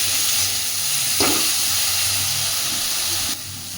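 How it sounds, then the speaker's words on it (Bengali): Vegetables for a bitter gourd dish frying lightly in a pan, with a continuous soft sizzle and hiss throughout and a brief stir partway through. "সবজিগুলোকে একটু হালকাভাবে ভাজা করে নেব।"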